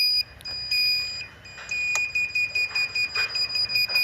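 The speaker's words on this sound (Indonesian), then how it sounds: "Ketinggian air akan berkurang, buzzer akan berbunyi." An electronic buzzer on a water-level monitoring setup beeps in short repeated pulses, speeding into a quick steady rhythm toward the end, high-pitched and clear over a faint background hum.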